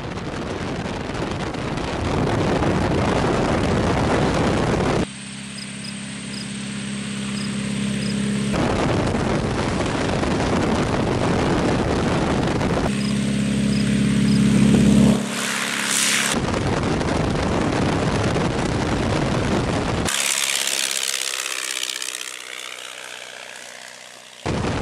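A Tiger Moth biplane's engine builds power for takeoff on a runway, a broad steady drone with wind buffeting, cutting between segments and easing off near the end, with no talk.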